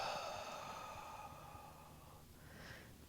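A yoga practitioner exhales slowly and audibly during a stretch, a single soft, airy breath that fades out over a few seconds, close and quiet.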